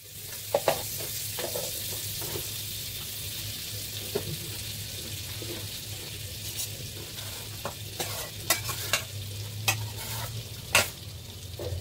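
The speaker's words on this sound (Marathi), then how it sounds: "हे बघा मस्त असा पनीर आपला फ्राय घेतलाय करून. तर ह्याच्यात परत थोडंसं बटर टाकूया." Paneer fries in butter in a pan, a faint continuous sizzle with a low hum beneath and scattered clicks and taps of stirring, growing busier toward the end.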